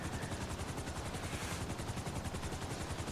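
Rapid, steady rotor chop from a helicopter in GTA 5 drones loudly and continuously throughout with no talk over it.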